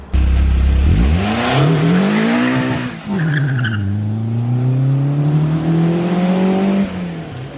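A Caterham Seven 420R sports car revs hard and close, its engine note climbing through the gears with sharp shifts and a brief dip around the third second, loud and unbroken throughout.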